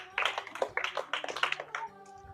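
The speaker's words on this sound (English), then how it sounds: "Let's clap for her." A few people clapping for a Bible riddle contestant, a short run of close, uneven claps in a small room that trails off after about two seconds.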